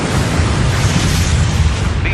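Explosions from a strike destroying two ZSU-23-4 anti-aircraft vehicles in a combat scene, heard as a sustained, loud rumbling roar with deep low-end boom that fills the whole stretch.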